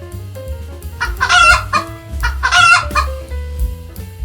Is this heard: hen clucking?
yes